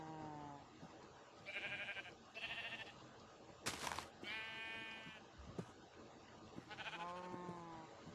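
Several bleats from sheep in the Minecraft video game, around a farm with baby sheep, come in short separate calls spread through the clip, fairly clear and close, with no talking.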